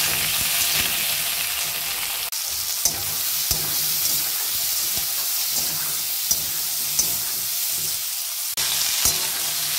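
Cut cauliflower sizzles steadily in a hot pan as curry fries, a continuous loud crackle broken by occasional stirring clanks and brief dips, with no talk.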